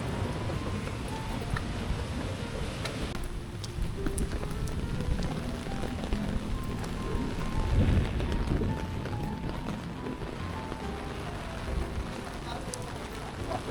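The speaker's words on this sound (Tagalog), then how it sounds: "Ulan" Steady rain patters on a surface with a constant wash of noise in Pasig, Philippines, while an engine rumbles low underneath and people talk faintly.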